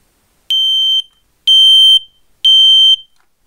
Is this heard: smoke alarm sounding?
yes